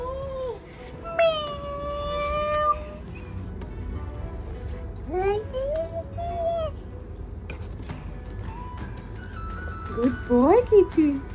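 A person imitates a cat with several drawn-out meows, some rising and falling in pitch, scattered over background talk.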